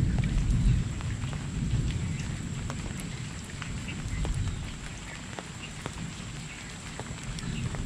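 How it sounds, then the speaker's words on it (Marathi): Rain falls steadily on trees in the Konkan countryside, a dense even patter on leaves with occasional sharper drips, continuous and moderately loud throughout. "पाऊस थोडासा कमी झाला तर ना झाडांच्या पानांचा जो आवाज येतो ना तो थोडासा तुम्ही अनुभवा"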